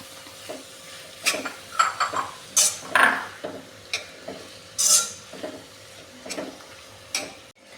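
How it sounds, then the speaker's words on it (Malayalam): Shallots, onion and ginger garlic paste are sautéed together in a pan, a soft sizzle beneath irregular clinks and scrapes of a spoon stirring against the metal. "ചെറിയ ഉള്ളിയും സവാളയും പിന്നീട് ജിഞ്ചർ ഗാർലിക് പേസ്റ്റും എല്ലാം കൂടെ നന്നായിട്ട് ഒന്ന് മിക്സ് ചെയ്ത് ഒന്ന് വഴറ്റിയെടുക്കാവുന്നതാണേ."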